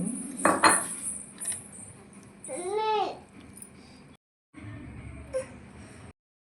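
Peanut chutney scooped from a pot into a bowl, metal spoon clinking and scraping against dishes in short bursts at close range, with a brief squeaky sound midway and a moment of silence near the end.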